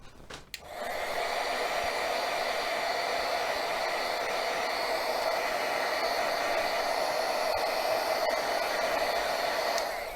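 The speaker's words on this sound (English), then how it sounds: "I'm just going to use my heat tool to dry that off a little bit." A heat tool blows steadily to dry paint on a craft project, a constant whirring hiss running almost the whole time after a brief click at the start, close and moderately loud, with no talk.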